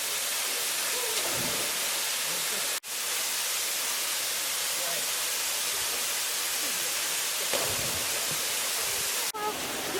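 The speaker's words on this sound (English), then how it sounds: "The waterfall right behind me is about 27 feet, but it is only like 6 feet deep" A waterfall about 27 feet high roars in a steady, dense broadband rush, close and continuous throughout with no voices.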